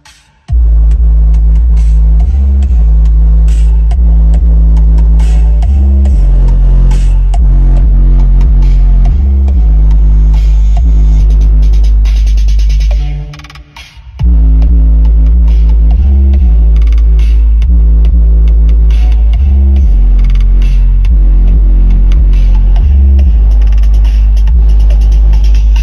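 A car subwoofer driven by a Moco mono amplifier thumps heavy bass inside the car, very loud and booming in rhythmic pulses, with a brief dropout midway.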